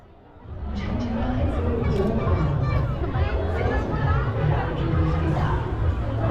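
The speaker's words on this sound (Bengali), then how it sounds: "মানুষের ভিড়টা দেখো প্রচুর ভিড়" Dense crowd hubbub at a Durga Puja pandal in Sonakhali, Daspur, steady chatter of many voices, children among them, filling the space evenly and loudly.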